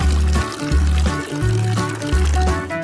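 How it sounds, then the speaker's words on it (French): Juice poured into a pie crust in a kitchen, a steady close pour with a rhythmic glugging pulse running for a few seconds. "Je vais le verser dans la croûte."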